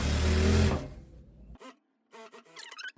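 A sewing machine stitches a viscose fabric seam on a jumpsuit, a loud close whirring burst that stops, then quieter short clicks and rattles follow.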